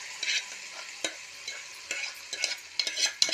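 Gongura leaves go into a sizzling tempering spiced with a pinch of asafoetida. A soft, low frying hiss runs under repeated scraping stirs of a spoon in the pan.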